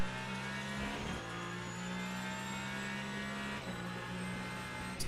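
Hypercar engine at Le Mans in the sim racing game Le Mans Ultimate, a steady droning tone that dips briefly as it shifts, then holds its pitch, with no voices.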